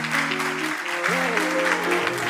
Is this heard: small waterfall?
no